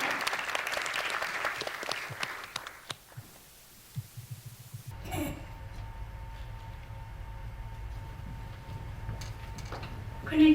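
Audience applause at a children's peace summit, clapping dense for about three seconds, then fading into quiet room hum with faint scattered claps.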